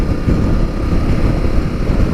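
Strong wind buffets the microphone while riding a KTM Super Adventure 1290 motorcycle, a loud, steady low roar and rumble with no speech.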